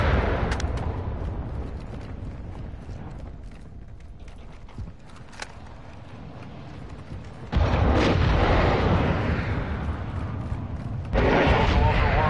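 A missile strikes and destroys an aircraft in a military shooter game: a sudden loud, broad blast that holds as a heavy roar, followed by a second burst, with radio voices talking over it.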